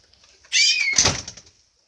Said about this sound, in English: I was just slamming the door.